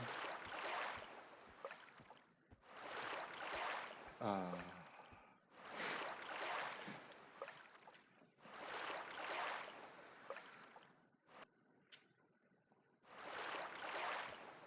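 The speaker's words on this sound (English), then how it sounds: "Listen to the refreshing sounds of the water as we make our way." Flowing water from the game Everquest, Project 1999 Red server, heard as repeated swells of rushing water fading in and out, with a narrator talking in short bursts between and over them.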